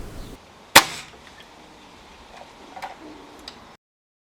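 A single sharp crack from a Webley Mk II service air rifle firing a 16 grain Air Arms Diablo field pellet, close and loud, followed by faint mechanical ticks and clicks in a quiet room.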